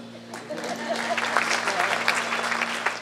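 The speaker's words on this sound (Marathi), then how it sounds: "टाळ्या वाजव ना" Audience applause at a Marathi stage event during a religious ceremony, a steady patter of many hands clapping over a low steady hum, with a voice present in the mix.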